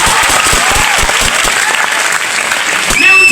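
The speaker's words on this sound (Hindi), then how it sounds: "one big round of applause for Mr." An audience applauds chemistry teacher Mr. Rajesh with loud, close clapping that runs steadily throughout, and a brief whistle-like tone rises near the end.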